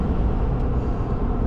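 A 2024 Ford F350 Lariat pickup accelerates up an incline, its engine giving a deep, steady rumble heard from inside the cab in a brief burst.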